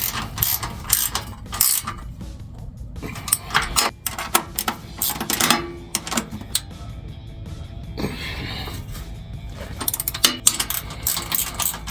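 A speed wrench ratcheting on running board bolts during a Silverado 1500 truck install, with loud close bursts of rapid mechanical clicking separated by short pauses and shifting clanks throughout.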